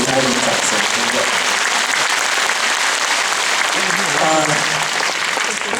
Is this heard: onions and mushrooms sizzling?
no